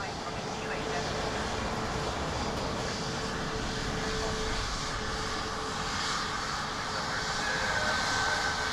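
A Pegasus Airbus A321neo arriving at Dublin Airport gives a steady, broad engine roar that holds at an even level for the whole stretch, with voices talking over it.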